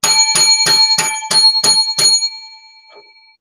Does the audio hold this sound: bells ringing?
yes